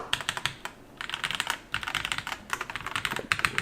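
Drop CSTM80 mechanical keyboard being typed on, rapid bursts of crisp clicky keystrokes in uneven rhythm with short pauses, close up and fairly quiet, with no talking.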